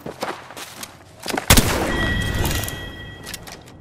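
Gunfire in the Apex Legends video game: a sharp loud shot bursts out after scattered lighter clicks, followed by a sustained rattle of continued firing and game effects, with no speech.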